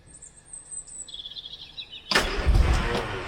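A rare barn-find Riley Kestrel car cranks and fires for the first time, a sudden loud, rough burst of engine noise breaking in after a quiet stretch with faint high chirps.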